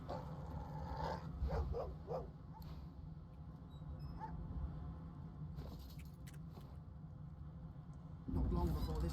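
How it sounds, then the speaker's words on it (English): A dog in the fantasy role-playing game Divinity: Original Sin 2 gives a few short barks early on, fairly faint under game ambience and a person talking. "Dog."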